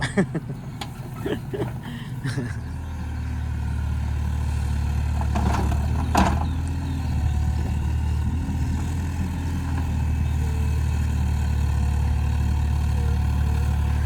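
A Kubota excavator's three-cylinder diesel engine runs steadily, a low continuous rumble that climbs after a couple of seconds and then holds constant for the rest of the time, with a few faint clanks at the start and no talk.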